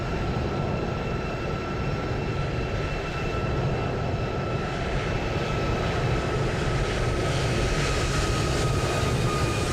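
Turkish airliner on the runway in Microsoft Flight Simulator 2020, a loud, constant jet engine roar with steady tonal whine, close and unbroken for the whole stretch, without talk.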